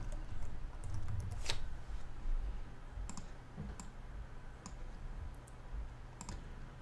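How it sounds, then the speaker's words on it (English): Quiet typing on a computer keyboard: sparse, irregular key clicks spaced out over several seconds against a faint, low room hum. "And then down here, I'm just going to type in tutorial."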